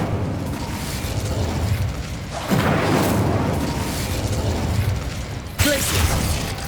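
An Incendio fire spell cast in the video game Hogwarts Legacy bursts out in two sharp, booming whooshes, one near the middle and one near the end, over steady in-game ambience.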